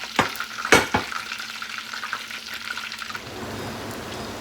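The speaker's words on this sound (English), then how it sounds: "so the frying is over" Large prawns coated in tempura batter fry in hot oil, a steady close sizzle with a few sharp clatters and stirring sounds near the start.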